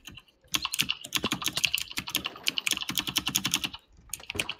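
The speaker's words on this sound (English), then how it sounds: "Dude, I love this keyboard." Rapid clattering keystrokes on a computer keyboard in dense bursts with brief pauses, close and crisp, with no talking.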